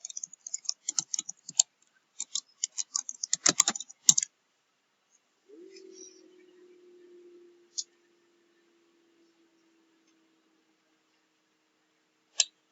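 Fingers type a username and password on a computer keyboard, giving quiet close bursts of rapid key clicks over the first few seconds, then a faint hum and a couple of isolated clicks later.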